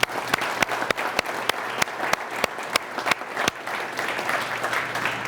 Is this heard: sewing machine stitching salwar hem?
no